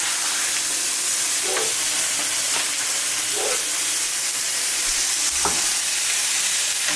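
Fettuccine pasta sizzles and hisses steadily in a pan of hot liquid for fettuccine alfredo, a constant close bubbling with a few soft stirring knocks.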